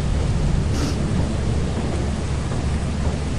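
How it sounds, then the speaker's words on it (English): A thunderstorm in the game Lethal Company: constant heavy rain hiss with a low rumble of thunder underneath, plus a brief sharp crackle early on, with no voices. "Oh, it's stormy, that's not good."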